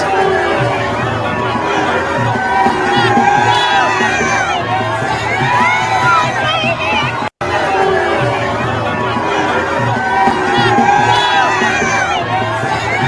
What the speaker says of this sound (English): look at all the people that came out to applaud Zoran